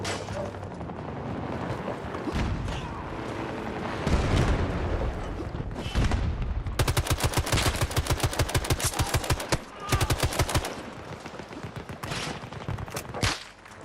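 Battlefield 6 gunfire rings across a multiplayer match, first as scattered distant shots, then as dense, rapid, close bursts of repeated cracks that stop and start again.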